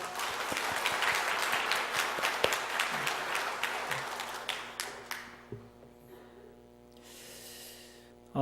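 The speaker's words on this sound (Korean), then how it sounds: "하나님께 영광의 박수를 올려드립니다." Steady applause from a church congregation after a choir hymn fills the first half, thinning into scattered claps before fading to quiet room tone.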